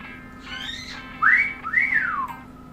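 A pet bird gives a couple of clear whistles, with two bright rising-and-falling notes close up after a fainter opening chirp.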